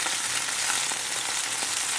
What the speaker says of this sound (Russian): Жарится.